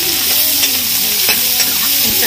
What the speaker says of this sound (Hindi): प्याज के साथ ही मैं डाल दूँगी अदरक, बीन्स और गाजर